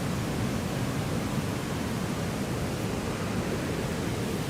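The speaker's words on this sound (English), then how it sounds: "I hope you can hear me over the roaring, thundering waterfall behind me here." Roaring waterfall beside a campsite in Norway's fjord and mountain country, a dense, steady thundering rush of falling water that stays loud and unbroken throughout, with no voices over it.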